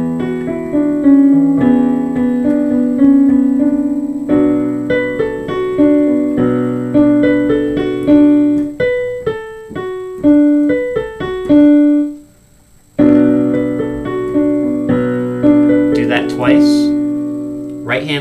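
Piano plays the chords of a song, with sustained chords and single high notes ringing and fading, loud and close, with a brief pause near the end before the playing resumes.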